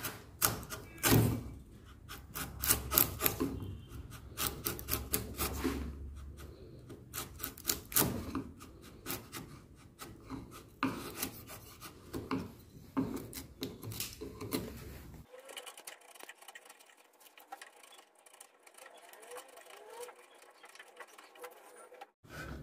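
A chisel cuts into wood to set the depth of a joint, giving irregular sharp taps and scraping strokes close by, then lighter rasping scrapes toward the end, with no talking.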